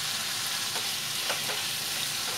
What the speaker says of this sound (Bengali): নেড়ে আমি ভাজা পটলগুলো এর মধ্যে মিশিয়ে দিলাম